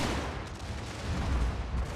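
Battle gunfire in a Prussian-era strategy video game, a dense continuous rumble of distant musket volleys and booming low thuds with no clear individual shots, steady and moderately loud throughout.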